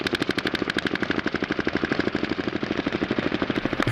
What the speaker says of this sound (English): they're just walking down the alley shooting at nothing